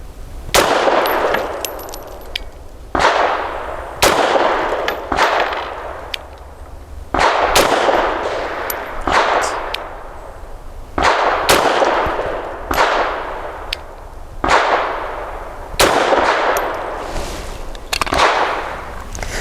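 A Grand Power LP380 pistol fired at a small target from 7 yards: about a dozen loud, sharp reports at uneven intervals, each with a ringing decay, with no talking.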